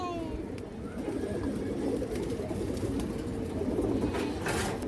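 Old-line pigeons of traditional breeds coo steadily, a soft continuous murmur close by, mixed with faint background noise and an occasional distant voice.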